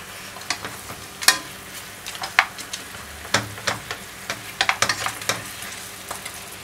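Pork teriyaki fries in a pan over medium heat, a close crackling sizzle with sharp spattering pops and scraping clicks coming in irregular bursts.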